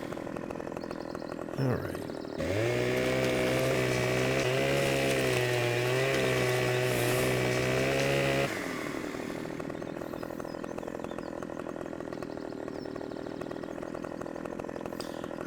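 A game-simulated chainsaw in Farming Simulator 17 revs loudly for several seconds while limbing felled trees, then cuts off to a quieter engine hum; a brief word is spoken before it starts.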